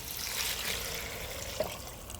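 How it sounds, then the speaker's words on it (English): Water poured into a pot of rice and beans, a steady close trickle and splash running for about two seconds with no talking. "So rice goes in there, beans go in there, and then double amount of water"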